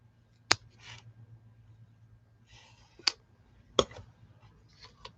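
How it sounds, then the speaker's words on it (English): Scissors snipping twine for handmade cards: a few sharp, separate clicks spaced over several seconds with faint rustling between, quiet and close. "I'm going to cut it a little shorter yet"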